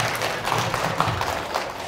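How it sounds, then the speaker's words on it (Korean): An audience at a public science lecture in Incheon applauds to welcome a mechanical engineering professor, a loud, dense, continuous patter of many hands. "큰 박수로 맞이해 주시기 바랍니다"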